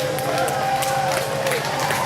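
A crowd applauds as a crane lifts a statue of General Lee from its base early on a Saturday morning, a steady wash of clapping and crowd noise with a voice talking over it.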